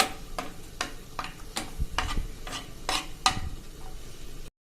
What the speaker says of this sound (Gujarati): અને એને આપણે આ રીતે રોસ્ટ કરી લેશું ઘીમાં.